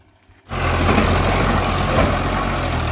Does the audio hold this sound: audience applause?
no